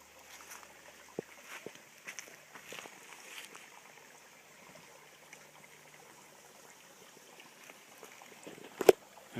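A creek trickles and flows quietly as someone walks along it at a Nankoweap basecamp. Soft scattered footsteps and splashes break the steady, faint water sound, with a sharper knock near the end.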